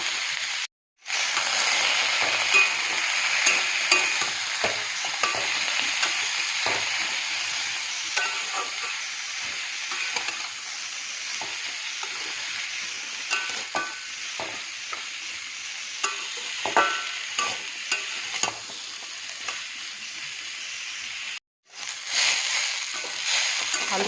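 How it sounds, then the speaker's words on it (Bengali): Diced potatoes fry with onions in a pan for a quick papad curry, a continuous close sizzle and hiss with intermittent scraping of a spatula stirring, briefly cutting out twice. "এবার দিয়ে দিচ্ছি আলুগুলো এরকম ডুমো করে কেটে নিয়েছি"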